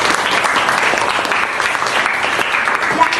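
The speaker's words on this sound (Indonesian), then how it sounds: "Tepuk tangan dulu untuk Mini." Applause from a class of students in a classroom, a dense steady patter of clapping hands lasting the whole stretch, fairly loud and close, with no talking over it.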